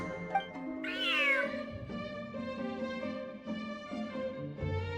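A large cat in the Genshin Impact 4.5 Feline Fortress Furrdyssey event gives one clear, rising-then-falling meow early on, heard over steady in-game music.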